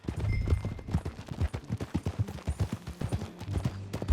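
Horse hooves clip-clopping in the Red Dead Redemption 2 video game, a steady rhythmic trot of thuds up close, with faint background game sounds and no talk.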